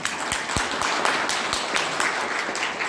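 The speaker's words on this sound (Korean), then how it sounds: "제차 뜨거운 박수 부탁드리겠습니다" Wedding guests applaud warmly at the opening of a Korean wedding ceremony, a steady dense crowd clapping with a few sharper nearby claps standing out, continuous for the whole stretch.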